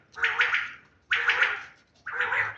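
Three loud, harsh bird squawks come in close succession, each about a second long and separated by short pauses.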